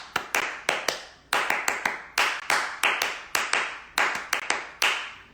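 Sharp hand claps beat out a repeating rhythmic pattern, short groups of close, crisp claps separated by brief pauses, alone with no talking.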